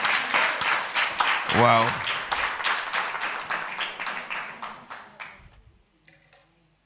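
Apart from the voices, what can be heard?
audience applause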